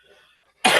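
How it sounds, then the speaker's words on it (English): A single sharp, loud cough bursts out after a quiet stretch with faint background murmur. "excuse my cough"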